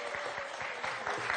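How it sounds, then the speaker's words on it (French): A TV quiz show audience applauds steadily in a dense patter of many hands, with a voice faintly under the clapping. "Très applaudi, Paul."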